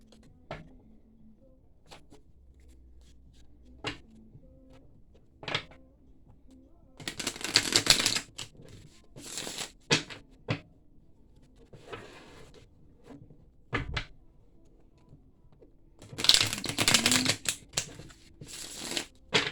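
Tarot cards being shuffled in several short riffle bursts, close by and fairly quiet, with soft handling taps and pauses between, no talking.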